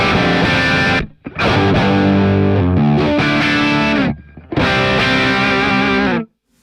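An electric guitar played through the JCM 800 amp model of a Mooer GE200 multi-effects unit chugs out loud distorted riffs in three bursts separated by short gaps of silence.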